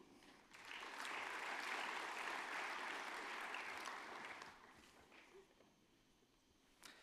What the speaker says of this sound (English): Please join me in a round of applause to thank our past division chairs for their service to ECS.